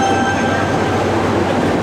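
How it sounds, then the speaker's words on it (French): A Tokyo subway metro train running close by, a loud continuous rumble and rush of wheels on rails with a faint high squeal, no voices. "Donc je reprends le métro et je vous parle de tout ça en arrivant."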